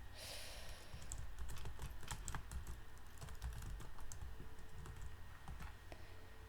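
Rapid clacking of keys on a computer keyboard, continuous and fairly close, with a brief pause in the middle.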